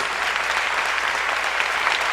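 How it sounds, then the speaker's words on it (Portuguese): A church congregation applauds, with dense, steady clapping from many hands heard close and loud throughout, and no voices stand out over it. "Vamos aplaudir o Cristo de Deus."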